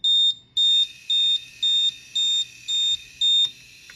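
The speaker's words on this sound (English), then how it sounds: "So you can press the button if you want to test it to go into alarm." CMR leak detection system alarm in test mode, sounding seven loud, evenly spaced high-pitched beeps close by, each about a third of a second long, with no other sound.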